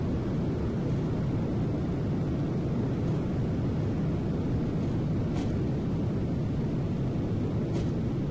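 Jet engines of a Boeing 737-800 spool up in a flight simulator, a steady, loud broadband roar that holds evenly for several seconds with no talk over it.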